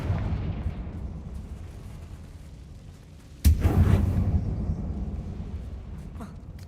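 A Confringo spell explosion in Hogwarts Legacy lands as one sharp, loud burst that decays into a rumbling tail, following a quieter stretch of low ambient rumble.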